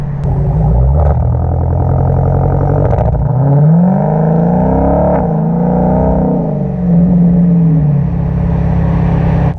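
A Dodge Demon street-legal drag car's engine idles with a deep rumble, then revs hard and loud in rising sweeps, settling and climbing again as it builds toward a launch, with no talking over it.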